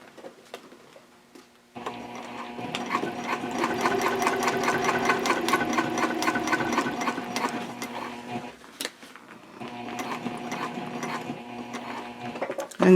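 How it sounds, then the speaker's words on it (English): Sewing machine topstitching a seam runs in a fast, even rhythmic chatter, starts and runs steadily, pauses briefly for a pivot, then resumes, close and moderately loud with no talk. "So now I'm going to pivot and top stitch 1/8 of an inch away from that"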